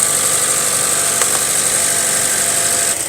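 A Chevy Cruze engine idles steadily while being checked for thermostat trouble, overheating and coolant leaks, a loud constant hum with a brief dip near the end and no talking.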